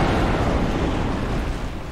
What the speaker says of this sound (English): Explosion, run away!